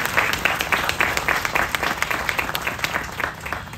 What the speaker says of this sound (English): zing Mr. Pablo Garza Jr. and his team at LNG with a round of applause.